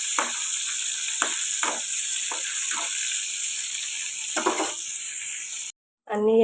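Okra and eggplant frying in hot oil for a chutney give a steady, close sizzle, broken by several scraping stirs. The sizzle cuts off abruptly near the end, and a short voice follows.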